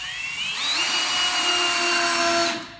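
A power drill whines loud and close as it drives a screw into a window frame, its pitch rising as it spins up and then holding steady for about two seconds before stopping abruptly.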